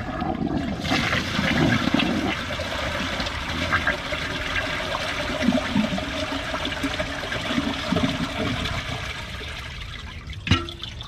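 Loud, continuous rushing of a toilet flush clearing thick tissue paper, water swirling steadily with a brief gurgle near the end.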